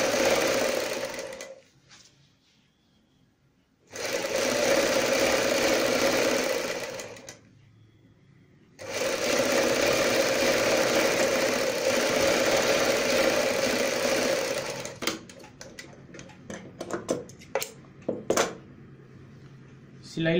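Sewing machine stitching a folded fabric strip for kurti sleeves, running in steady close bursts of whirring with short pauses between, then a stretch of lighter handling clicks and taps near the end.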